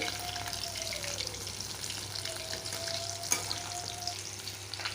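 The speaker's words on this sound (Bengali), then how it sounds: "মাছগুলো ভাজা হতে থাকো" Papda fish frying lightly in oil, a close, continuous bubbling sizzle with faint tonal hums and one sharp utensil tap partway through.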